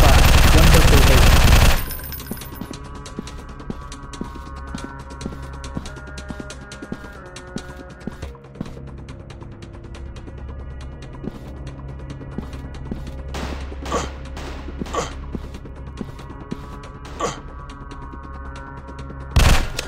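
Fire Strike gunfire starts with a loud, dense burst of shots. It then thins to scattered sharp pops over a humming game background, with a few louder cracks later on.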